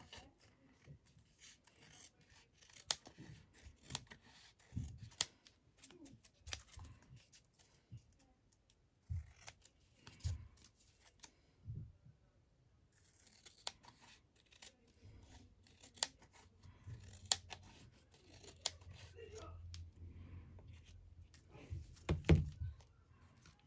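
Scissors trimming a paper long tag in a quiet crafting setup: a series of soft, close snips and rasping paper rubs come in irregular bursts with short pauses between.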